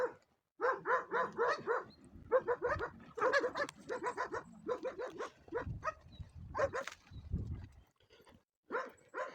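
Several street dogs bark repeatedly in a forest in quick, overlapping bursts, fairly close, with short pauses between volleys.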